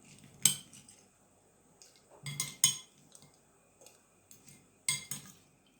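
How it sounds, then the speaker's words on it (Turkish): Dried tomatoes go into a glass jar with a few separate clinks and clatters of glass and utensil, spaced apart with quiet gaps between them, close up and with nobody talking. "Şimdi şişeme hepsini dolduruyorum."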